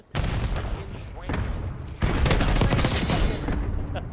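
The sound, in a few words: frag grenade explosion and gunfire in a video game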